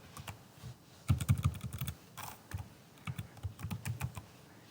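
Typing on a computer keyboard while entering a Microsoft Excel formula, heard as quick, close clusters of key clicks in short bursts with brief pauses between them.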